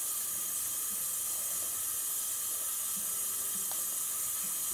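Tap water pours steadily into a container during canvas dyeing with RIT dye, a constant close hiss that stays even from start to finish, with no voices.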